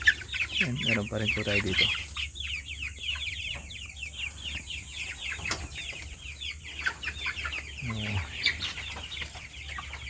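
Upgraded native chickens cluck and chatter steadily at a backyard poultry pen, with busy overlapping calls throughout and a brief stretch of lower, throatier clucking, while someone speaks briefly nearby.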